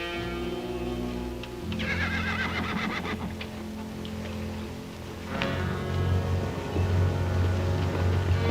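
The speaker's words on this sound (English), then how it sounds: "Tell Dobie to get the horse." Horse in an old cowboy action film neighs with a long, strong whinny over a steady background, followed by hooves clip-clopping and a second whinny.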